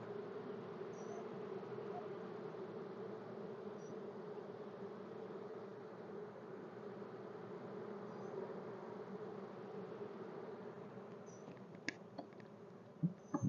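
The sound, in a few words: honey bees buzzing in an open hive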